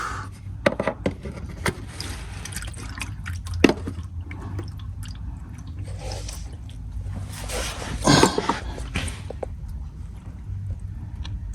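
Synthetic motor oil drains from an Acura MDX into a pan below, a steady close trickle with occasional wet splashes and drips, some louder bursts partway through.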